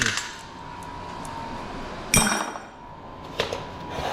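A hammer drives a steel punch through a weld on an electric motor, producing two sharp metallic strikes a little over a second apart, with faint clinks in between.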